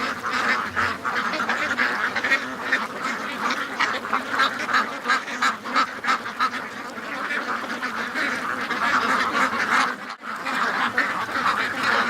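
Ducks quack outdoors on a windy day, many overlapping calls forming a dense, continuous chorus with a brief dip near the end.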